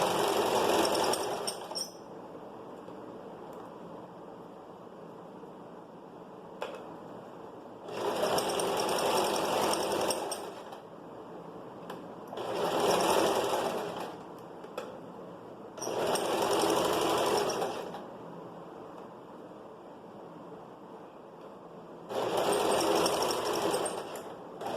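A sewing machine stitches a flared skirt seam, running in five separate bursts of rapid, steady whirring with short quiet pauses between them, each start and end tied off with a backstitch.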